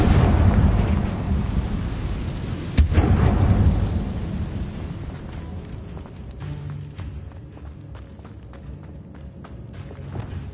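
A Confringo fire spell blasts in the Hogwarts Legacy video game, a loud booming explosion with a sharp crack near the three-second mark, then rumbling debris and scattered crackles fading over the next several seconds.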